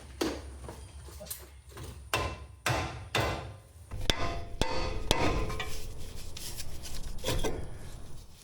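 Sharp hammer blows strike metal while fitting 1.5 inch Rough Country spacers during a CV axle replacement on a 2004 first-generation Toyota Tundra. The loud, close impacts come in an irregular series, then the hits turn denser and more clattering.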